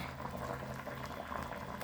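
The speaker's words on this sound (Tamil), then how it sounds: "நல்லாவே கொதிக்குது" A pot of uppaviyal boils on a stove, giving a steady, dense bubbling and simmering that stays at an even level from start to finish, close up and alone.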